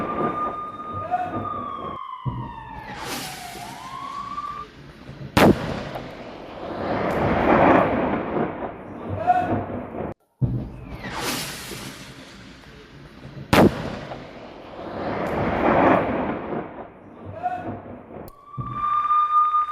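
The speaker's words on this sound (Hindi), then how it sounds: "इजरायली सेना ने यहां तोप से बरसाए गोले" Heavy booming blasts of Israeli army artillery shelling in southern Lebanon repeat every few seconds, each followed by a rumbling roar, with whooshing and a siren-like tone between them.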